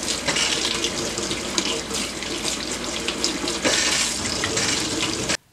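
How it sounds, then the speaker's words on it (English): Hot tap water runs steadily into a sink as hands are washed beneath the stream, a close, continuous splashing hiss that holds level for about five seconds and then stops abruptly. "Run them under hot water for 20 seconds."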